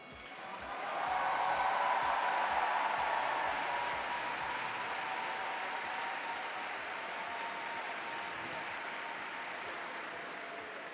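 A large crowd at a men's free skate at the ISU Four Continents figure skating championships in Seoul claps continuously. The applause swells after a second, then settles into a steady, slightly softer ovation.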